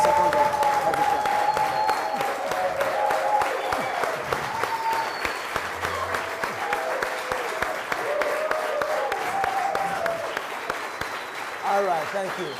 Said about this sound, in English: 10 seconds of heavy clapping.